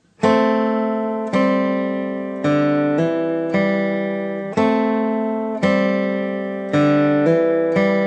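Plucked acoustic guitar notes played slowly from a song in a simple melody, each note ringing out and decaying before the next, clear and close with no voices.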